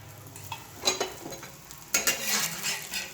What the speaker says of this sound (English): Roast the paratha evenly by adding oil or ghee of your choice.